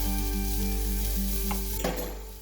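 Bitter melon stir-frying in a hot pan, a loud, steady close sizzle with a brief clatter of stirring near the end, no voices.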